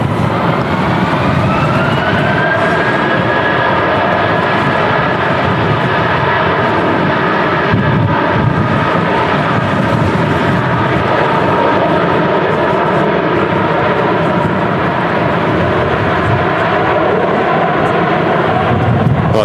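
An Airbus A321 jet airliner at Manchester Airport, bound for Tenerife in storm crosswinds, gives off a loud, sustained engine roar with a rising whine early on, close and constant throughout, with no clear voices.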